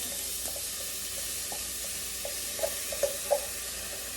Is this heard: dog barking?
no